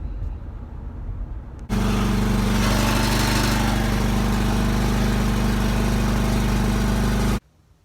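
A lawn mower engine, its drive belt removed, catches and runs steadily at a loud, even idle for several seconds before cutting off abruptly, following a brief quieter stretch of background noise.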